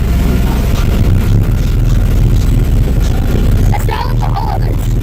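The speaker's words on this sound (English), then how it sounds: "The whole truck is rattling." A truck rattles and rumbles while driving, a loud continuous low drone with dense vibration filling the whole stretch, and a voice cutting in briefly near the end.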